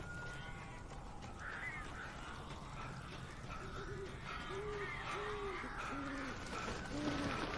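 Birds in the video game Alan Wake give a series of short, hooting, owl-like calls over a low ambient rumble, growing more frequent toward the end.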